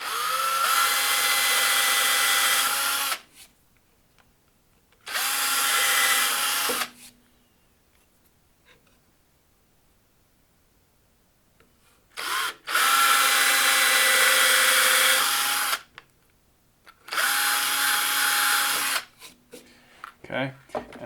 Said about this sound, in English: So what I did first is pre-drill them with a smaller bit